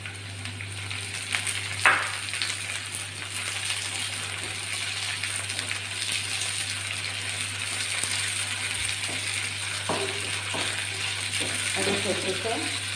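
Raisins fry in hot oil for chicken kabuli pulao, giving a steady, soft sizzle with faint clinks and scrapes of stirring.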